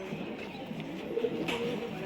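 Pigeons coo softly in a short run of low, rolling calls at moderate distance, with faint background noise and no talking.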